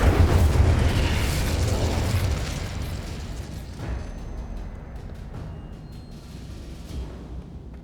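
A Confringo fire-blasting spell explosion in the video game Hogwarts Legacy opens with a loud, roaring burst that decays over several seconds into rumbling debris and a few smaller pops.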